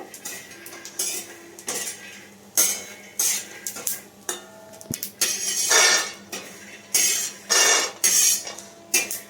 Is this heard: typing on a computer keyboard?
no